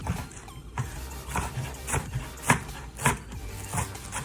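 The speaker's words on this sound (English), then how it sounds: "Now you're going to want to chop up the cilantro in little tiny pieces." A knife taps steadily on a cutting board, chopping cilantro in a loose rhythm of quick strokes, fairly quiet and close.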